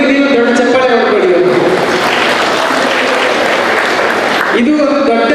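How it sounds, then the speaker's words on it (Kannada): An audience at a student award ceremony of the Karnataka weavers' association claps in a loud, continuous burst for several seconds while a voice and a tone carry on underneath. "ಸೊ ನಿಮಗೆ ನೀವು ದೊಡ್ಡ ಚಪ್ಪಾಳೆ ಹೊಡ್ಕೊಳ್ಳಿ"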